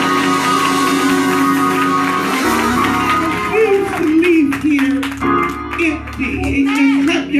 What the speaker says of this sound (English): I dare you to clap your hands